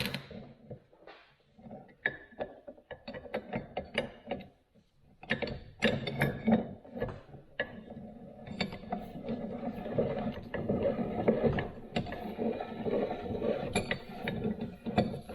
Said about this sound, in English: So now I've got room to insert this and screw it in.